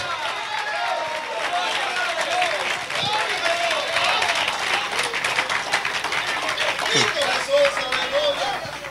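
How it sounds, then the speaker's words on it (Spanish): A church congregation applauds with steady, dense clapping spread across the room, while a preacher's voice keeps talking over the sound. "Qué poquitos aplauden"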